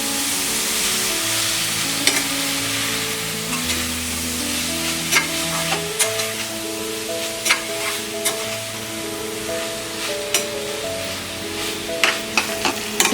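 A spoon stirs grated paneer frying in a pan for paneer bhurji, with a steady sizzle underneath and regular sharp scraping clicks against the pan, close up with no voices.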